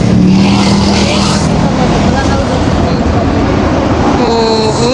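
A loud, continuous rumbling roar of a passing LRT light rail train overhead near Roxas Boulevard, Parañaque, steady throughout, with a faint high squeal near the end.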